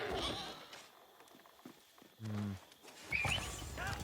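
Cavalry units, knights and horse archers, in the strategy game Age of Empires: a short whinny and soft hoof clatter among busy game effects, with a voice present in the mix.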